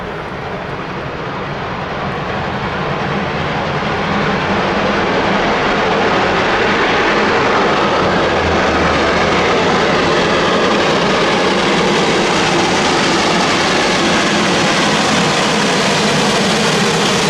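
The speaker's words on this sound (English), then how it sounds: "the Light Pacific wrangled its train uphill" Steam locomotive 425, a Light Pacific, hauls its train uphill with a loud, continuous roar that swells over the first few seconds and then holds steady, with no voices.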